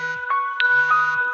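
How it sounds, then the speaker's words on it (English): An alarm ringing with a steady electronic tone and soft chiming pulses, brief and fairly close, with no talk over it. "make that go away. That's my alarm."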